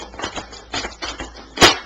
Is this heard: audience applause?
no